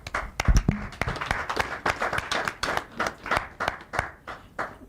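Hand clapping in a radio studio, a group of sharp, irregular claps close to the microphone, fairly quiet and uneven in rhythm.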